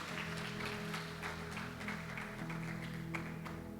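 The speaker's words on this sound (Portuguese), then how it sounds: "E um aplauso ao Senhor." A church congregation applauding in steady, sustained clapping, moderately distant and somewhat muffled, with a low humming background and scattered voices mixed in.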